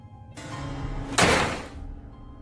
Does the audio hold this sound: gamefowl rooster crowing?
no